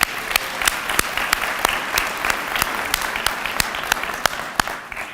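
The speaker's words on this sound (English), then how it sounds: "Can we give them another round of applause?" Audience applause at a university white coat ceremony, a loud sustained round of many hands clapping with sharp individual claps standing out, continuous throughout.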